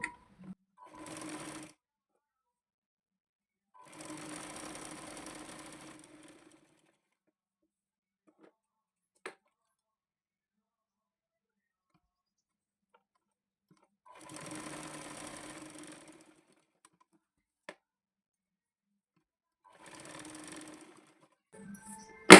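A sewing machine stitches a blouse hem in four separate bursts of rapid whirring, each a couple of seconds long, with quiet pauses and small clicks between runs.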